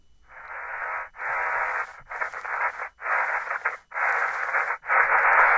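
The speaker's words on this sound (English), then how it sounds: "And I've included even more static noise here" Hissy, band-limited static plays in repeated bursts with short gaps between them, starting quiet and growing louder toward the end.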